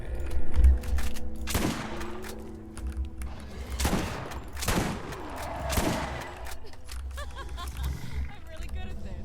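Gunfire in a one-life video game run, with several loud sharp bursts spaced a couple of seconds apart over a steady low rumble and game noise, with talking heard in between.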